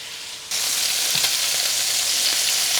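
Lamb pieces sizzle over high heat in a pan on an induction hob, a loud, dense frying hiss that starts abruptly and holds steady throughout, with faint stirring taps and no voices.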